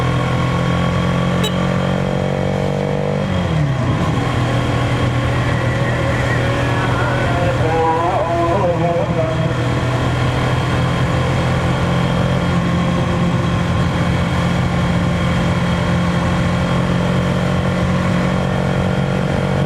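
A 2026 Bajaj Pulsar NS200 motorcycle engine drones continuously while being ridden, with a steady buzzing hum, a brief dip and rise in revs early on, and constant wind rush.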